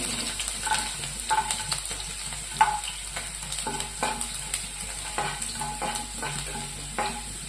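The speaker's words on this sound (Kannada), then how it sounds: "ಈಗ ನಾ ಕಟ್ ಮಾಡಿ ಇಟ್ಕೊಂಡಂತ ಬೆಳ್ಳುಳ್ಳಿ ಹಾಕೊಂಡ್ರಿ." Chopped garlic sizzles in a pan for vada pav, with a constant hiss and repeated scraping stirs spaced through it. It sounds steady and close with no talk.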